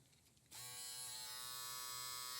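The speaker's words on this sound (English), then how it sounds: "It's just a single foil shaver." A single foil electric shaver switches on after half a second of quiet and then runs with a steady, even buzz, close and fairly quiet, alone.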